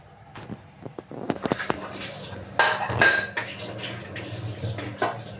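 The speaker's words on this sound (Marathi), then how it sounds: "स्वयंपाकासाठी वापरण्यात आलेली थोडी थोडी भांडी मी पटकन धुवून पालती घालून ठेवत असते" Cooking utensils being washed by hand in a home kitchen: pots and pans clank and clink against each other in sharp bursts, with cutlery rattling and water splashing between the knocks, heard up close.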